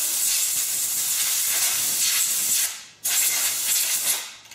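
An air compressor nozzle blowing out the oil holes of a chainsaw: a loud, steady hissing blast of air, cut off briefly near the middle, then resumed and tapering away.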